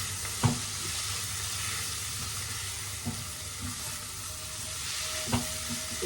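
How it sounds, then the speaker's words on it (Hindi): Cooked guar bean curry with amchur powder is stirred in a pan over a steady low sizzle, with three soft knocks of a spoon spaced apart. "तो बस अब इसको अच्छे से मिक्स कर देंगे।"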